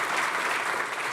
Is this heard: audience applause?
yes